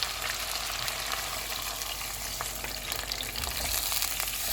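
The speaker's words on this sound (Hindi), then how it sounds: "चिकन को मैंने 8 मिनट तक भूना है। अब ऑयल अलग नज़र आना शुरू हो गया। इसमें कॉर्नफ्लोर वाला मिक्सचर डालेंगे" Chicken frying in oil as a cornflour mixture goes in, a dense, steady sizzle and crackle with some stirring, close and fairly loud, without speech.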